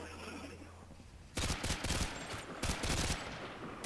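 Modern Warfare 2 Team Deathmatch gunfire erupts after a quiet second, dense rapid bursts of automatic fire with sharp cracks continuing to the end.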